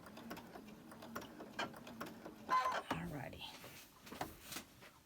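A sewing machine runs in short bursts during hen-block embroidery, stitching up and down to lock the thread, a quick mechanical chatter heard under a person's soft speech.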